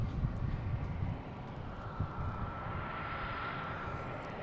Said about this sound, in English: So we have a Delta taking off, 2586, heading to Nashville